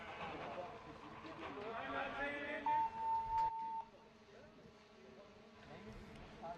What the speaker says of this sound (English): Buzzer hit.